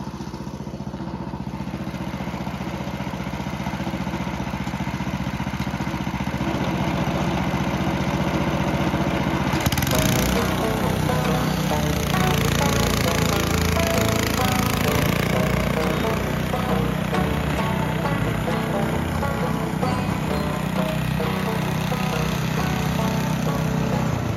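A snow blower engine idles steadily, then revs up sharply partway through and keeps running at higher speed, loud and close throughout with no voices.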